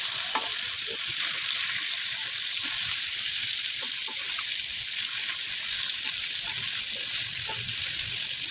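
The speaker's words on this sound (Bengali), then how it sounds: "একটা প্যান বসিয়ে আমি মাছ ভাজাটা বসিয়ে দিলাম।" Native koi and shing fish frying in a pan give a loud, continuous close-up sizzle and crackle, a constant hiss with no talking.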